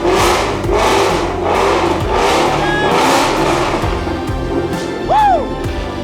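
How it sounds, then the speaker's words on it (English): A car with a loud newly installed aftermarket exhaust and intake revving hard, engine rising and falling in repeated surges with a brief high squeal near the end, close and very loud. "Loud exhaust, let's go."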